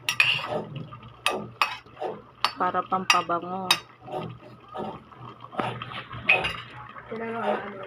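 A utensil scrapes and clinks against a metal pot in irregular strokes, stirring chicken kaldereta, while someone talks over it.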